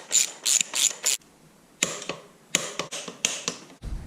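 Ratchet clicking in quick bursts while snugging lower subframe bolts to 30 Nm on a Husqvarna TE300 TPI motorcycle, four sharp clicking runs followed by further intermittent clicks and taps, close and clear with no talk.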